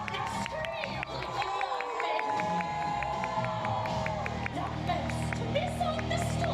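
A theme park show crowd cheers and shouts loudly and keeps it going, dense and sustained, while a performer's voice and music carry on over the noise.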